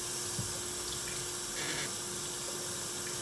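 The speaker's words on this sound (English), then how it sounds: "We want to eat this celery before it spoils. So just rinse it off." Celery gets rinsed under a running kitchen tap, a steady, soft hiss of flowing water with no voices.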